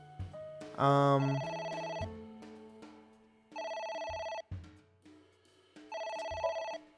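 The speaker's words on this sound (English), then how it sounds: "We can answer the phone now." A telephone rings in the video game AI: The Somnium Files, with repeated bright electronic ring bursts separated by short gaps. It is clear and fairly loud, and no one talks over it.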